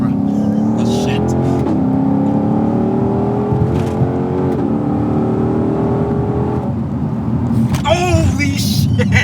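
A 2020 Ford Mustang GT500 braking hard, its loud engine droning steadily then dropping in pitch as the car slows, with tire and cabin noise rising at the end and people talking over it.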